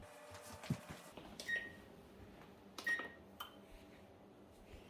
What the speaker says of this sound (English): First thing what you're going to want to do is preheat your oven to 350.